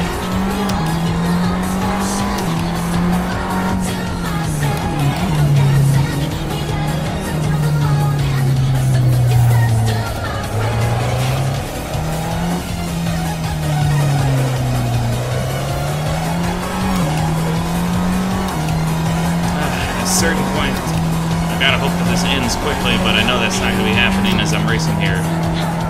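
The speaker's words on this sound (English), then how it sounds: "there's no soundtrack in this game, so you have to listen to the engines" Race car engines roar in the Assetto Corsa racing game on PC, a loud droning note that rises and falls through gear changes and corners, with tire squeal and skidding layered over it.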